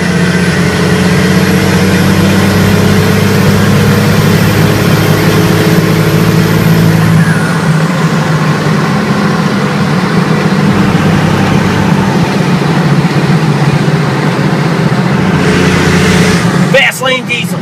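A six-speed Cummins diesel truck on huge tires runs steady and loud throughout, its engine note dropping after a gear change midway, with the driver talking over it.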